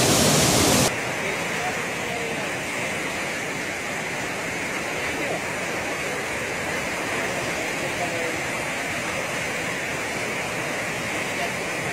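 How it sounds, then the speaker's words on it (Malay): The fast flash-flood surge on Sungai Tekala produces a continuous heavy roar of rushing river water that stays steady and close, loudest in the first second and then slightly lower, while someone speaks faintly over it. "Kepala air di Sungai Tekala."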